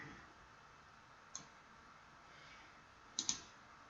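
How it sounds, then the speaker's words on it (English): A computer mouse clicks while items are dragged in school grade-reporting software, a single soft click and then a quick double click, near and quiet over faint room hiss. "clicking on there and dragging up to the top"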